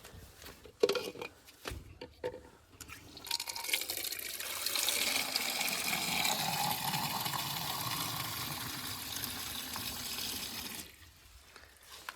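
Water rushes steadily into a container for several seconds, preceded by a few clanks and handling noises, then the flow stops.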